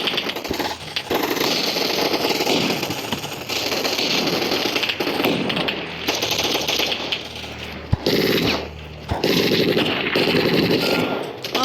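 Loud bursts of automatic gunfire from the Gun Fight Arena video game, rapid rattling volleys broken by short pauses and sharp single cracks, close and dominant.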